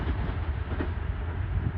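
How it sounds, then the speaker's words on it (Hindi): The 18 Down Millat Express passes through a railway station, a loud, steady rumbling roar of wheels on rails with faint rhythmic clatter, close by and unbroken from start to end. "ये थी आज की हमारी 18 डाउन मिल्लत एक्सप्रेस"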